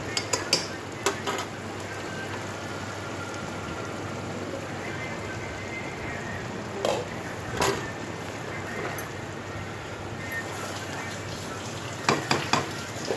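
Noté shak (amaranth greens) being stirred in a pan as they cook, giving a steady soft sizzle with scraping and clinks of the spatula against the pan, close and continuous with no voices.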